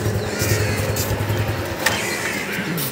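A car starting up and idling in a residential courtyard, the engine note steady and fairly close with a brief clunk partway through, no talking.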